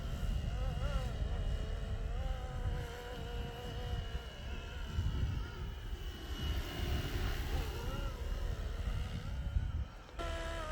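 A 3D printed Bell B429 model helicopter flying with a whirring buzz from its tail fin, a steady droning rotor hum with wavering tones, fairly close and continuous, with no voices.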